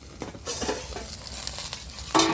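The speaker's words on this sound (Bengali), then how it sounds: "তো ভেন্ডিটা ভাজা হয়ে গেছে।" Okra (bhindi) frying in a pan with its lid lifted sizzles steadily up close while being stirred, with soft scraping strokes and a sharper utensil clatter at the end.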